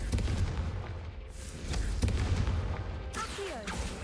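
Confringo spell blasts in the video game Hogwarts Legacy, several booming fiery bursts over rumbling combat noise, followed by a whooshing sweep near the end.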